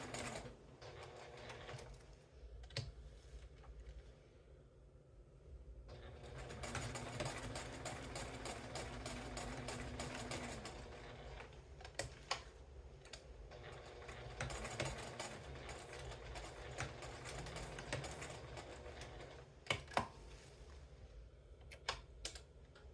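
A home sewing machine runs in stretches of fast stitching and back stitching on a fabric tea wallet, with brief stops and small clicks between runs. It is close and moderately quiet, and no one talks.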